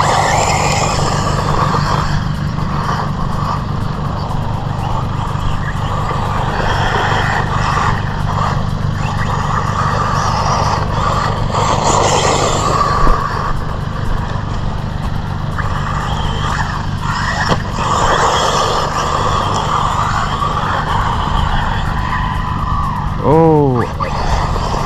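A Team Corally Syncro4 RC buggy drives throughout, its motor whining and tires scrabbling continuously over loud outdoor wind noise, with a brief rising electric motor sweep near the end.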